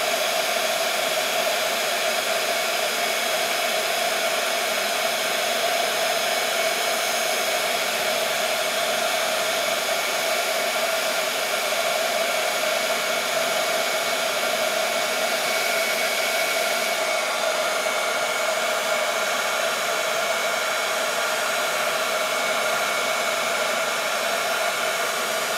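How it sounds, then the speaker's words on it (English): A heat gun blowing hot air while making a handmade Christmas card: a steady, loud, unbroken whooshing roar of fan and airflow that holds constant for the whole stretch, with no talking. "I'm gonna go ahead and hit this with a hot heat gun so I don't lose it all"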